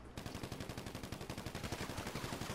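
Rapid automatic gunfire in GTA 5 Online, a sustained burst of evenly spaced loud shots at a fast rhythm, continuous from just after the start to the end, with no talk.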